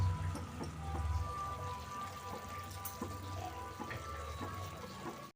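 Ground cumin, turmeric and chili powder are mixed with a little water in a bowl for a meat curry. The quiet, wet stirring carries soft taps and splashes close by, with no talk.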